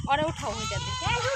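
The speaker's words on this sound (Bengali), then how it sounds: "আর ছাগল মে মে করতে করতে শেষ" A goat bleats in a village setting, giving a couple of wavering, nasal calls close by, with people talking over and around them.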